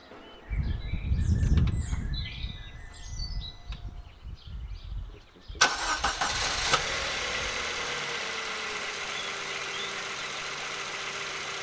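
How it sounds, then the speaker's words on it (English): Birds chirp in a quiet setting, then an MG3 engine cranks and catches with a sharp burst, settling into a steady idle. "we'll start up the engine and just check that I haven't blown my car up"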